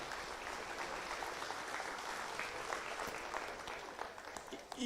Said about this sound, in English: give the volunteers a round of applause for the job they put into